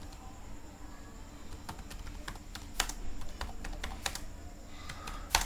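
Keys on a computer keyboard tap in quick, irregular bursts, close and fairly quiet against a faint room hum.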